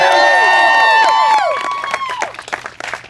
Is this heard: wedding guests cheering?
yes